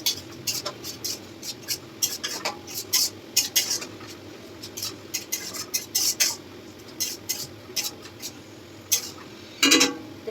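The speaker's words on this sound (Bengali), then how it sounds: "এবার এটাকে ভালো করে মিক্স করে নেবো।" A utensil stirs a spice mixture in a metal cooking pan, giving repeated sharp scraping clinks in an irregular rhythm over a low background, fairly close, with no talk.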